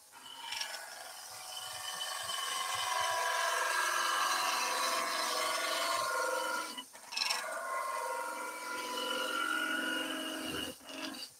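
A wood lathe spins a staircase spindle while a gouge takes a finishing cut down to a smaller diameter: a steady, bright scraping hiss that breaks off briefly and resumes.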